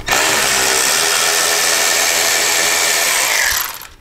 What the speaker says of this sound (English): take the 3/8 bolt out of the horn mount up here and drop this down